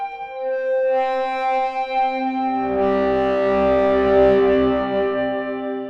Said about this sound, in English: Now you have a more regular tube screamer kind of sound